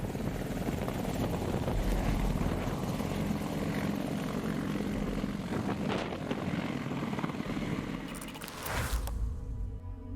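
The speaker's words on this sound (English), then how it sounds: "The Cold War-era Apache attack helicopters have been playing a role in the counterinsurgency fight in the Middle East" An Apache attack helicopter flies with a steady, loud rotor and engine roar that swells and fades slightly, followed by a sharp burst of noise near the end.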